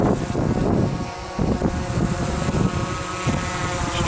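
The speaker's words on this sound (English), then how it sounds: "that wind's going to be tough on it" Outdoors at a cabin, strong gusting wind buffets the microphone in a loud roar that dips briefly and then surges again, nearly masking a faint motor hum underneath.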